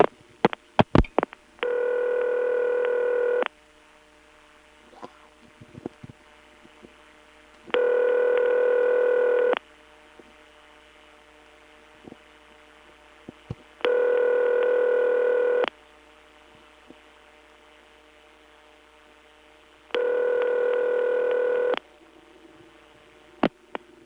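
Senderized XY step telephone exchange switching a dialed call in Lexington, SC, with a mains hum under four evenly spaced, loud buzzy tone bursts, each about two seconds long, with clicks and relay chatter between them.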